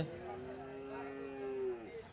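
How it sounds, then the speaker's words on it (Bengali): Black cattle at a cattle market in Bangladesh, one cow giving a single long, sustained moo with a steady pitch for about two seconds, close and fairly clear over a faint crowd background. "এখানে আরো একটি কালো গরু কিন্তু দর্শক নিয়ে আসা হচ্ছে।"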